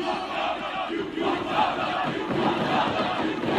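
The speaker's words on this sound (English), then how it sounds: "You hear the crowd." A wrestling match crowd roars and cheers continuously, a dense, loud wall of voices swelling and holding steady throughout.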